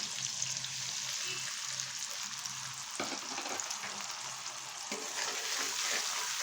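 Tomato with ginger and green chili paste fries in a pan for a fish curry, a steady hiss of sizzling oil with soft stirring scrapes and a brief clatter, no voices.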